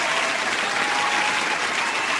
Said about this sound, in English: So give yourselves a great big round of applause.